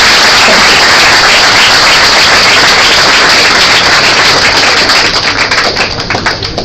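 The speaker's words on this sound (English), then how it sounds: "he deserves a big round of applause from all of us" An audience gives a loud, sustained round of applause to an entrepreneur at an event, dense clapping from many hands that holds steady and then begins to thin near the end.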